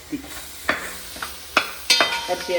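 Coriander stirred into chicken masala frying in a pan: a soft steady sizzle with a few scraping spoon strokes spaced irregularly, close up and without talk.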